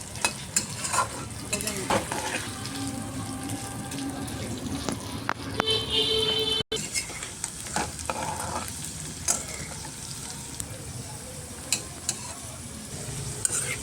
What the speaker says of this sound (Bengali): এখন আমি আলুগুলো লাল করে ভেজে নেব।